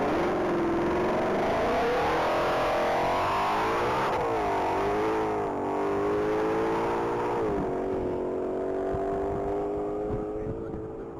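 2020 Ford Shelby GT500 accelerating hard on a mile-long top-speed run, a loud, sustained engine roar climbing through the gears with brief shift dips, a commentator talking over it.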